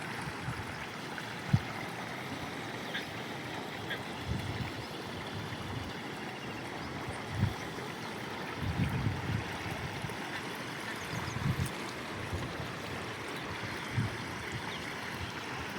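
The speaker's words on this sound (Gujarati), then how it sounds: "મિત્રો પપૈયાના ખેતરમાં પાણી જાય છે" Steady rushing water flows continuously through a papaya field in heavy rain, with soft splashes and gurgles rising now and then over the broad wash.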